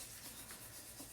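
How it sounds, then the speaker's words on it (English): Sanding on a Yamaha Breeze scooter transmission part gives a soft, continuous rubbing scrape, close and quiet, with no talk. "working on sanding this thing up"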